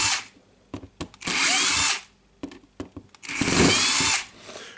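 A power drill runs screws into the housing of a Makita drill. Two long, steady whirring runs alternate with several short trigger blips, loud and close with no talk.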